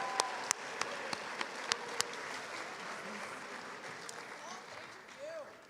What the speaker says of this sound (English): Let's give Roy a big round of applause.